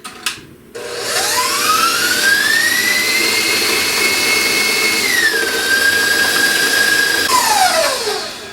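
An electric hand mixer beating Italian lemon ricotta cake batter spins up to a steady high whine, drops slightly in pitch midway, then winds down at the end, loud and close with no talk.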